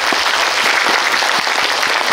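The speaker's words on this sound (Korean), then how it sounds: "박수 부탁드릴게요." An audience at a film talk event for a concert film claps together, a steady, dense burst of applause filling the hall with no speech over it.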